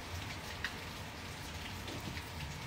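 Steady rain falls, making a soft, even hiss with scattered droplet patter close by and no voices.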